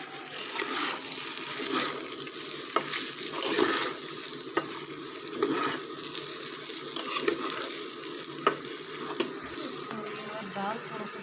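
Leftover fried rice frying in a pan with paneer added, a steady sizzle broken by repeated sharp stirring clicks and scrapes, close up, with faint talk in the background.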